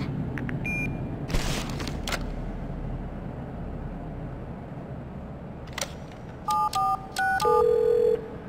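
In the video game The Darkness, an answering machine sounds dial-style tone blips followed by a sustained electronic beep, heard over a steady background hum with a few clicks and thumps earlier.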